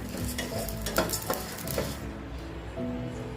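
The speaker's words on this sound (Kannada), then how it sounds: "ಅದಕ್ಕೆ ಜೀರಿಗೆ ಮತ್ತೆ ಕಾಳುಮೆಣಸನ್ನ ಆ್ಯಡ್ ಮಾಡ್ಕೊತಾ ಇದ್ದೀನಿ. ಸ್ವಲ್ಪ ಕೆಂಪಾಗೋ ತನಕ ಹುರ್ಕೊಂಡ್ರೆ ಸಾಕಿದನ್ನ." Cumin seeds and black pepper roast in a hot pan, giving a steady dry sizzle broken by scraping stirs and a few light clinks of a spoon against the metal, close and without talking.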